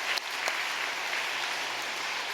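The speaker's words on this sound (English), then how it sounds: "please give them a big round of applause" Audience applause for four cadets at a devotional gathering, a steady wash of clapping throughout, moderately distant and even in level.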